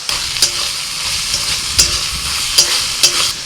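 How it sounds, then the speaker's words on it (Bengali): Loud, steady sizzling of spices frying in a pan over medium heat, punctuated by four sharp scraping strokes of a spatula stirring at irregular intervals. "মাঝারি জালে মশলা ভাজতে হবে"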